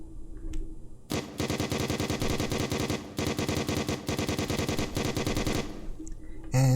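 A ceiling-mounted turret in the video game Black Mesa fires in loud, rapid automatic bursts, sustained for about four and a half seconds with a brief break midway, with no talking.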